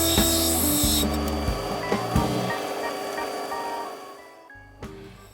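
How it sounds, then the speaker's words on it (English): A treated Andamooka matrix opal is ground against a 100-grit wheel on a lapidary arbor. A motor hums steadily under a rough, scraping rub that rises and eases as the stone is pressed on, then fades toward the end. "So I'll use my 100 grit wheel on the arbor to take off that corner"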